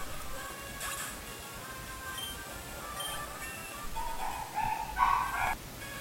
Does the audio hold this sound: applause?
no